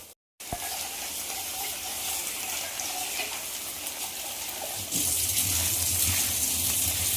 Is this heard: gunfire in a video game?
no